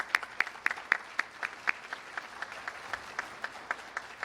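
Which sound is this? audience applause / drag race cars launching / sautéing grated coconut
audience applause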